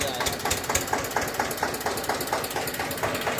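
A tractor hauling a water tanker runs close by, its engine chugging in a steady, rhythmic knock, loud and continuous for the whole stretch.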